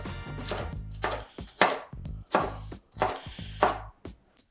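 A knife slices capsicum into strips in a steady series of about six crisp, close chopping strikes, evenly spaced with short pauses between cuts.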